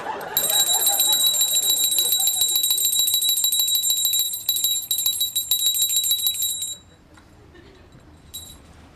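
A bell rung in the Pokémon Black 2 video game: a bright, rapid electronic ringing with sharp repeating strikes, loud and sustained for several seconds before cutting off into quiet, with a brief final chime.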